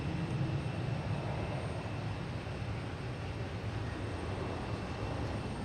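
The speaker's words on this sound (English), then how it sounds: "And we got a United taking off" A United airliner taking off from Boston Logan toward Newark, a steady broadband engine roar at moderate distance, constant and unbroken with no voices over it.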